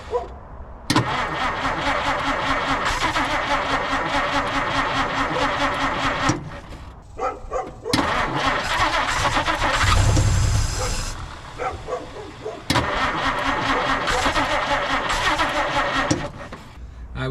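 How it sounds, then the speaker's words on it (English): A 1950 Dodge Meadowbrook engine cranks in several long bursts of rhythmic starter churning, broken by short pauses and a rough roaring catch in the middle, heard loud and close with a dog barking at times. "let's crank on it and see if it'll start"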